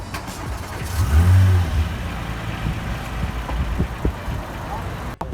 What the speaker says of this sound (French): Petite surprise, Porsche GT2 RS.